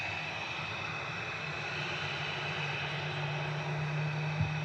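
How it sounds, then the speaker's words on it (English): A Ryanair Boeing 737-800 departing Manchester Airport for Oslo Torp, its jet engines producing a steady broad roar with a droning hum, sustained and fairly loud without talk. "Departing now, though, is Ryanair to Oslo Torp. This is GRUKL 737-800 with flight 3226."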